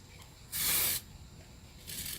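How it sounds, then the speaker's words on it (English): Genau KK100 temporary adhesive spray hisses onto fabric in one short burst, followed by a fainter second spray, in a quiet room. "So I'm going to give this a shot of spray too."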